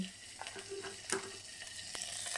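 Chopped garlic fries in a little butter and white oil, giving a soft, steady sizzle punctuated by quiet stirring scrapes and taps.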